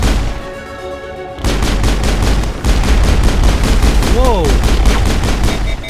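Gunfire from the Mass Effect video game: a rapid run of loud pistol shots after a short quiet opening, with a single startled voice exclaiming near the start.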